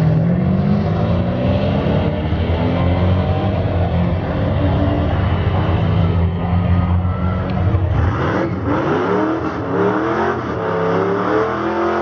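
Holden VF Series 2 SS drag car engine at a drag strip, holding a loud steady roar on the rev limiter for several seconds, then revs sweeping and fluctuating, with faint crowd noise behind.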